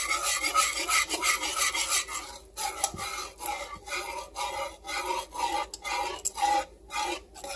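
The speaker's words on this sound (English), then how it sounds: "I'm going to continue to whisk because I want it to thicken" Whisk beating eggs in a bowl, a fast continuous scraping churn that breaks into quicker uneven clicking strokes, close and moderately loud with no talking.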